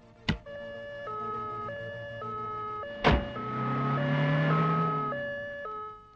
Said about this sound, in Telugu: ఏమిటి అంబులెన్స్ వెళ్తోంది?